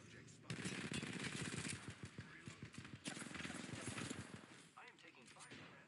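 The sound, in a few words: gunfire in online shooter video game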